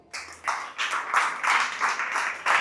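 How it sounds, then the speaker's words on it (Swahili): A church congregation claps together at an anniversary service, a quick, steady patter of hands in repeated bursts that fill the room at moderate loudness with no voices over them. "Pia wewe jipigie makofi siku ya leo"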